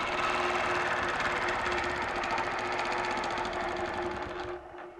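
A sewing machine stitches in the ditch while quilting cross-hatched lines, giving a steady, fast mechanical whir close up that slows and fades near the end, with no talking.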